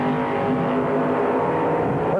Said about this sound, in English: Three comes down, full body car getting the head start over the dragster.